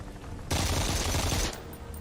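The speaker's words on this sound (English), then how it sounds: "And here's the AK. That full auto." Full-auto AK rifle fire in the video game Phantom Doctrine: one loud, dense burst of rapid shots lasting about a second, starting abruptly and cutting off cleanly, with quieter game ambience around it.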